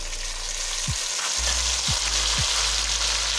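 Tomatoes drop into a hot oiled pan and sizzle loudly and steadily, with a few low knocks from the pan and spoon.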